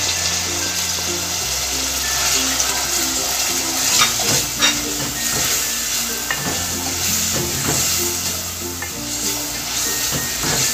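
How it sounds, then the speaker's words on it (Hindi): Minced keema frying with spices on high heat, a loud continuous sizzle and hiss of escaping moisture, punctuated by brisk scraping stirs, with no one speaking. "और मसालों के साथ हम खीमे को तेज आंच पे थोड़ा भून लेंगे 5 मिनट के लिए"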